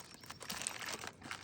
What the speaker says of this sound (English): So this is going to be a lot of foil wrapped up around here.